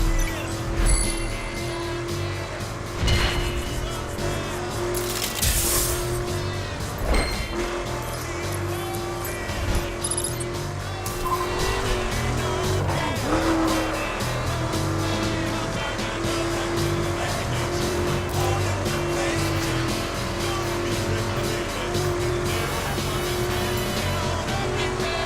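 Racing car engine droning steadily in The Crew driving game, with recurring tire squeals through corners and a few sharp impacts, engine tone rising and falling under occasional talk.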